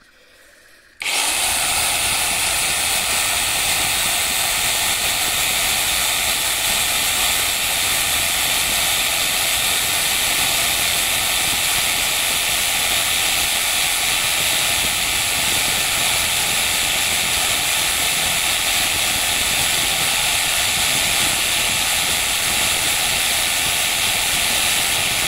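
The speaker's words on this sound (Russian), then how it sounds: "Вот, значит, у нас включен лобзик." A 1150-watt electric jigsaw switches on and runs unloaded, giving a loud, steady high-pitched whine and hiss that holds constant for over twenty seconds without pause.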